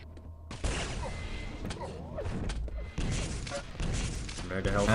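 Rocket launcher fire in a Quake duel between Spart1e and Clawz, several punchy blasts and thuds scattered through a hectic firefight while a commentator talks excitedly over the action.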